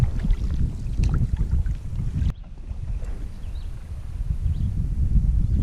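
Canoe paddling on a lake in Algonquin's Canadian backcountry, steady water wash and wind buffeting the microphone, with a short dip in level midway before the broadband water and breeze noise resumes.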